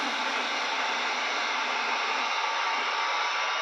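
A heat gun blows steadily on a graphics wrap being applied to a Pro Boat Sonicwake RC boat hull, giving a constant, close, airy hiss with no change in level throughout.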